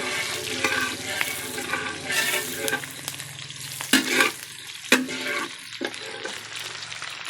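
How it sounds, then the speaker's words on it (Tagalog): Corn sautéed in a pan gives a steady close sizzle and frying crackle, with scraping stirring strokes and a few louder clatters, alone without talk. "Gigisa na ito ng lamais guys."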